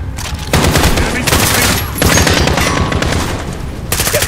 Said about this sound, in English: Get the pressure fire on that MG!